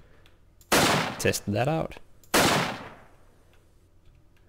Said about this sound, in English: You can pick up a shotgun,